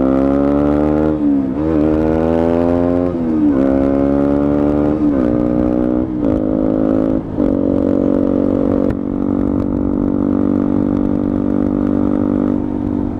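Motorcycle engine on a test ride of a newly acquired bike, revving loudly and continuously with repeated rising pitch sweeps as it accelerates through short-shifted gears, no talk over it.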